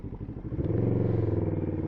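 A Kawasaki ER5 motorcycle with a newly fitted clutch pulls away smoothly, its engine note rising from idle into a steady, loud, close throb with a pulsing rhythm and no talk.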